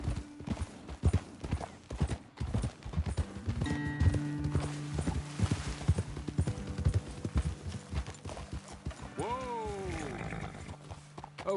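In Red Dead Redemption 2, horse hooves clip-clop at a steady walking pace, joined by a horse's whinny near the end, with voices talking over a low musical backdrop.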